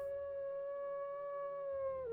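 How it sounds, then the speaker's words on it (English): A dog howls in a video game, one long sustained wail that holds a steady pitch and then dips at the end, loud and clear over faint low background noise. "That is a loud ass dog."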